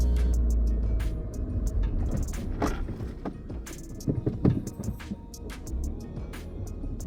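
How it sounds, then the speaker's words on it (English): Suzuki Vitara crawling off-road across a grassy field on traction tracks, a steady low engine drone with scattered knocks, creaks and mechanical clunks as the wheels roll over. "I steer the car so the rear wheels also run through the tracks onto the grass"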